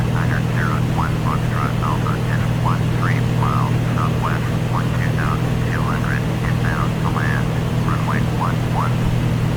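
Piper Comanche 250 piston engine in the Prepar3D flight simulator game, a steady low drone running throughout at constant loudness, with voice-like chirping overlaid across the whole stretch.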